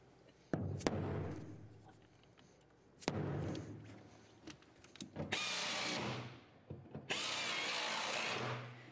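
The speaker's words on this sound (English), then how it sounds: "All right, we have all 8 holes drilled" A power drill whirs in several loud bursts drilling holes in a truck, starting and stopping with short pauses, some runs lasting a second or two, close by.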